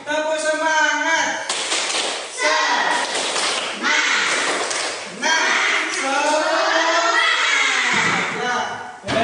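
Children in a classroom perform a rhythmic spirit clap, bursts of loud clapping and chanting voices repeating in short patterned phrases, close and energetic throughout.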